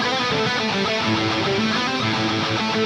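Dense, sustained chords from two distorted electric guitars ring out together, thick and layered with effects, loud and continuous without pause.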